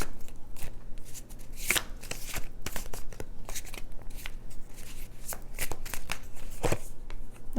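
Tarot cards from the Light Seers deck are shuffled by hand, a close, continuous rapid riffling and flicking with brief sharper snaps, and no talking.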